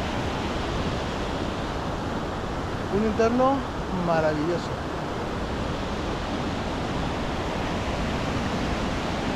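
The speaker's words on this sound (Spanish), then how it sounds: "El río hoy baja un poco más tranquilo comparado" Mountain river flowing calmly through a valley near a bridge, a steady broadband rush of water under wind noise, with a person briefly speaking over it.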